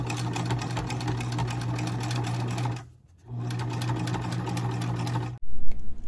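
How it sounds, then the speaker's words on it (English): A sewing machine runs steadily and close, stitching down the seams of an all-cotton notepad holder to close its pockets over chipboard. There is a brief pause near the middle, and the run ends abruptly before a few clunks. "we are now going to sew down these seams right here to close the pockets and hold the chipboard"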